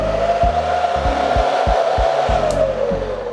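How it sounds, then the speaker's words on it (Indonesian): Loud, steady whooshing roar of a Topan laptop cooler fitted with server fans, running continuously close by, with a few low thumps in the background. "ini kipasnya kenceng banget karena dia tuh pakai kipas server"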